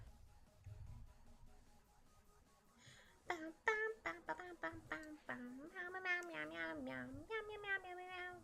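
A melodic, sung line of meow-like notes rises and falls over a soft backing, voiced in a playful singing style that imitates a cat.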